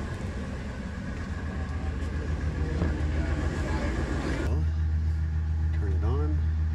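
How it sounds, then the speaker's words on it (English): The engine of a Grumman step van idles as a continuous low rumble, and the tone shifts partway through. People talk nearby over the engine sound. "Engine is running."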